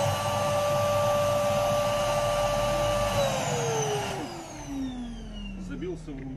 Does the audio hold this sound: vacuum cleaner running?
yes